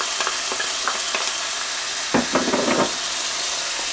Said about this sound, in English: So let's stir in these garlic and herbs.